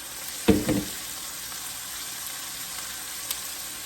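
Chicken cooking in olive oil in a pan, a steady close sizzle with a sharp burst of spatter near the start and a small pop later.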